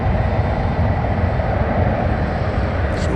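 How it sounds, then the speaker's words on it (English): An MD-11 aircraft taxis to take off at DFW Airport at night, a loud, steady jet engine roar and broad rumble that holds constant over the short stretch. "the third MD-11 as it heads over to take off"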